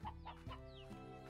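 Chickens cluck in the video game Slime Rancher, a few close, clear clucks and short calls in quick succession with no talking.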